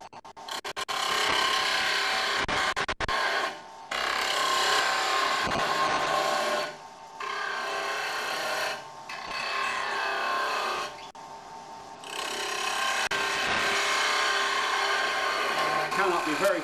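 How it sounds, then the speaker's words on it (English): A wood lathe hums steadily while a tool cuts a wobble chuck part, producing a bright, scraping whir that stops and restarts in several long stretches with short pauses between. "Turn the lathe on"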